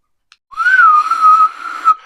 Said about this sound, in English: It's like a new dog whistle I've invented.